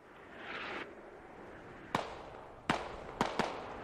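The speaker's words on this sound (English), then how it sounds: "It had a pretty wide spread on that smoke barrage" Smoke barrage shells land in the military shooter game Squad: a soft rushing swell, then four sharp, loud bursts, the last two close together, with no talking.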